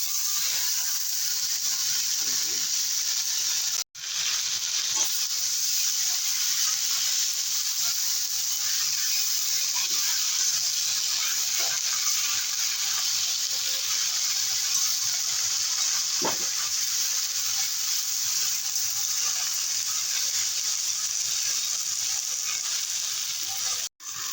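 Jute greens dropped into hot oil left from frying fish, for a prawn and brinjal dish, give a steady, close sizzle with a hissing wash that runs almost unbroken, cut by a short pause near the start.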